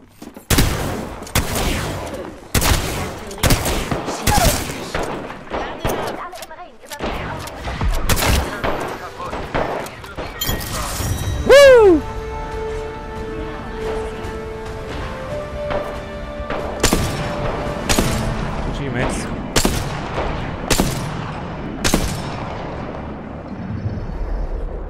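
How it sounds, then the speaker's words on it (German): Rapid bursts of automatic weapon fire from Apex Legends, sharp repeated cracks and volleys coming in clusters, with a ringing reload or ability tone in the middle and a German-speaking voice talking over the shooting. "Die schießen auf dich."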